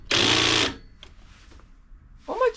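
A handheld power drill spins in reverse in a short, loud burst of steady whirring lasting about half a second, then stops, followed by faint clicks and a brief voice.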